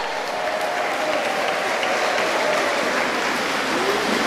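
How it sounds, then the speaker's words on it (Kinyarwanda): Congregation applauding during a church service, a loud, dense and continuous wash of many clapping hands that holds steady throughout, with no speech over it. "Wakoma Imana amashyi."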